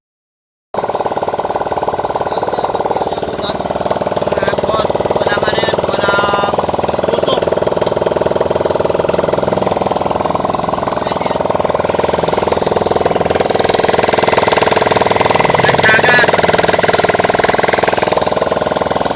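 A Honda Click 125i scooter engine runs steadily and close by after its oil seal and water pump are replaced, a continuous loud mechanical drone with a slight rise in intensity toward the end and no talking.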